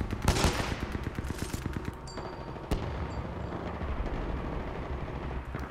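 Automatic gunfire in Titanfall 2, rapid bursts of shots in the first two seconds, a sharp single blast near the middle, then continuing battle noise and distant firing, loud and close.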